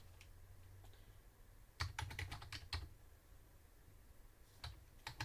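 A short burst of keystrokes on a computer keyboard while a batch number is entered into payroll software, quiet and close, followed by a few scattered key clicks.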